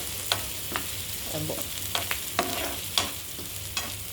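Onions fry in a pan while being stirred. A steady sizzle runs under sharp scraping and tapping strokes from the utensil, spaced irregularly, close by.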